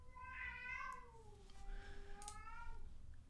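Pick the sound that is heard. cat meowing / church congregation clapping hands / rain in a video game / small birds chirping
cat meowing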